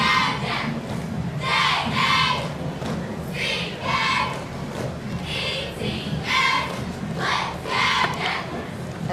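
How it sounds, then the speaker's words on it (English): A middle school junior high cheerleader squad at a Christmas parade shouts a cheer in unison, loud rhythmic group calls in repeated bursts over steady crowd and street noise. "They are performing a cheer for us."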